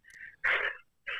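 A person sneezes once, a short sharp burst following a brief wheezy intake of breath, close and clear with a quieter breathy sound after it.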